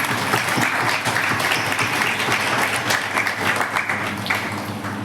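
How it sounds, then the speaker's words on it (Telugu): A church congregation claps hands during a Sunday worship service, a dense, steady applause that holds at an even loudness for several seconds. "అందరూ చప్పట్లు కొట్టండి."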